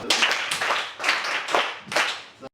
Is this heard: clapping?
yes